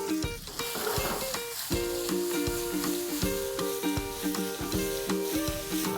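Small chicken pieces sizzle and fry in a pan with browned garlic, a steady loud hiss broken by repeated scraping stir strokes.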